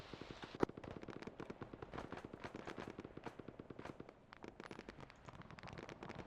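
Distant video game gunfire, a steady rapid crackle of many faint shots rattling continuously, like a far-off firefight with popping bursts.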